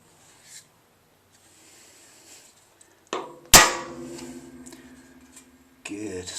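A single sharp metallic strike of a hammer on a centre punch rings out, close and loud, with a brief ringing decay, set among quieter handling sounds in a garage.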